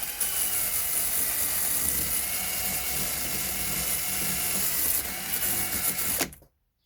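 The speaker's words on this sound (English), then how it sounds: "All I use is a pair of mole grips and a wire wheel, and I just spin the wheel and we get rid of the stuff" A wire wheel spins against old residue on the snapped motor of a Tekno SCT410.3 RC truck, a loud continuous whirring grind that holds steady for about six seconds, then cuts off abruptly into silence.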